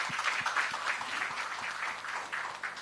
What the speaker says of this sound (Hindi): इस बात के लिए तालियां बजाई जाएं पहले तो